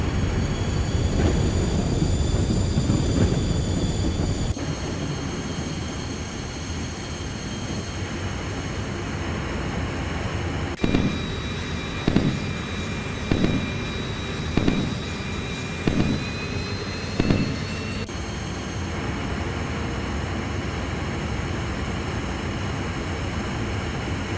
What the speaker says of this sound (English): Bombs away. And there goes the cluster.